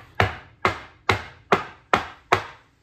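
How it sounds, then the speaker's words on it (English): Six sharp bangs of a soap mold knocked against a surface, evenly spaced about half a second apart, close and fairly loud. "Pardon the banging. That is to get any excess bubbles out"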